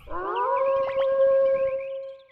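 A dog howls in the video game Suikoden 2: one long, wavering, tonal howl, loud and close, holding for about two seconds with no talk over it.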